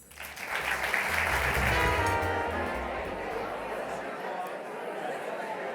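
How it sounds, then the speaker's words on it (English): Audience applause at a College of Engineering alumni awards dinner; a burst of clapping swells quickly, stays loud for a couple of seconds, then tapers into scattered claps and murmuring chatter. "Applause is a good way to transition."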